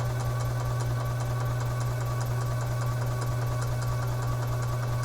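A 2011 EZGO TXT gas golf cart engine runs or cranks with a steady, loud, close mechanical drone and fast rhythmic chatter, unbroken throughout and without speech.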